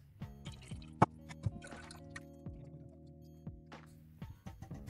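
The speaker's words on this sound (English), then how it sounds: "So I'm going to add a little bit of water to it, so I get all the tea out of these tea leaves." Water poured over green and brown tea leaves for kombucha, faint drips, splashes and gurgles coming in short bursts with quiet gaps, close and alone.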